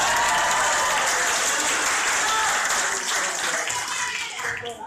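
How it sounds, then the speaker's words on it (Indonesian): Spectators at a Fahmil Qur'an quiz competition break into lively applause, a dense continuous clapping mixed with crowd noise and cheering that tapers slightly toward the end. "kami beri kesempatan penonton untuk tepuk tangan yang meriah"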